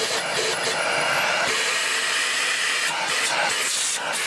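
Beko VRT6221P vacuum cleaner running after its filter service, a loud, steady broadband whoosh of suction throughout, close and unbroken.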